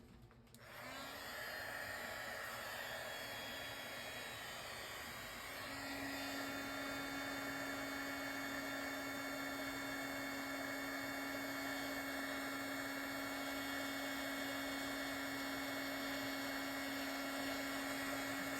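A heat tool blows steadily for the whole stretch while setting embossing powder on a Christmas card, a loud, continuous whirring hiss with a faint steady whine, alone and without talk.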